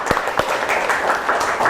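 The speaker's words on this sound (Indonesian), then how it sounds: "tepuk tangan untuk kita hari ini" Brief applause in a classroom or lecture session, a dense patter of clapping that starts with a couple of sharper claps and holds steady at moderate loudness for under two seconds.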